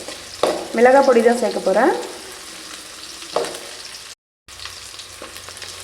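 Mustard seeds frying in hot oil in a pan for a horse gram (kollu) dish, giving a steady close sizzle with stirring sounds while a voice speaks briefly over the start.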